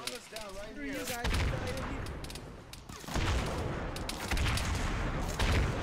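Gunfire crackles through a large ArmA 3 battle on a D-Day beach landing, with dense overlapping shots and bursts filling the clip, while players shout and talk over the fighting.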